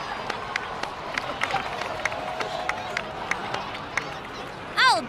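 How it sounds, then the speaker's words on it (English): Crowd applause in the game Genshin Impact, a moderate wash of clapping and crowd noise with scattered sharper claps throughout, ending in a short bright chime. "so please give another round of applause for them"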